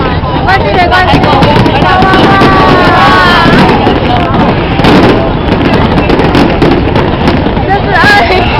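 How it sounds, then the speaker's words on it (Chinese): The first fireworks of the 2009 New Year celebration go off in rapid, crackling bursts and sharp pops, continuous and loud, over an excited crowd's chatter and voices. "这是2009年第一把烟火。"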